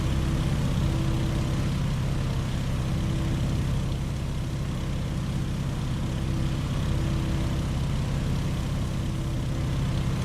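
Steady propeller engine drone of an open-cockpit Stearman biplane in flight in a video game, constant and continuous with a low rumbling hum throughout.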